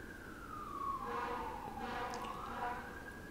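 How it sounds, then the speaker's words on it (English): A siren sound effect wails alone, its pitch sweeping down and then rising again in one slow cycle. It is steady and moderately loud, with no talking. "A loud ass siren."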